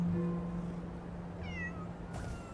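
A cat meows in the Infinity Nikki video game, with one short, clear mid-pitched call standing out over a steady hum of game ambience and music.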